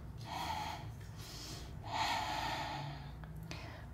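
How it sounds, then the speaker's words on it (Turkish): Two slow, deep breaths, each a drawn-out airy rush, taken while holding a pose against a wall in a beginner strength exercise class. They are close and moderately loud over a low steady hum, with no talking. "Derin nefes al."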